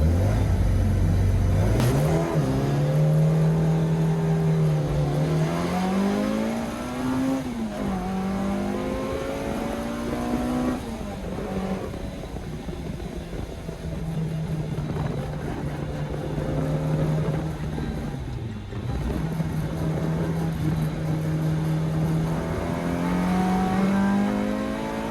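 A 1976 Ford Escort RS2000, a Group G Southern Cross historic rally car, heard from inside the cabin on a wet track at Morgan Park, Warwick. The engine is loud and continuous, rising and falling through revs and gear changes for the whole stretch, with no talk.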